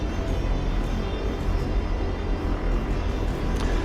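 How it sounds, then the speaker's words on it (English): A Chinook helicopter flying high in a video game, heard as a dense, steady, close engine and rotor roar that does not change across the few seconds. "Come on, Chinook. You're almost there, but you're still way the hell up there. You should be starting your descent by now."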